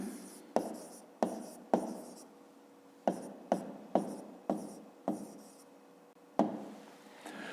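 Pen writing out a fifth-grade math solution on paper, a steady scratchy scrawl broken by several sharp taps as the pen touches down, close and fairly quiet with no talking.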